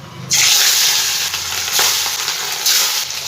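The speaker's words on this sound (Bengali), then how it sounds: "এই পর্যায়ে আমি মাছগুলো সব একে একে দিয়ে ভেজে নেব" Parshe fish slipped into hot white oil in a wok, setting off a loud, steady sizzle and crackle that surges each time another piece goes in.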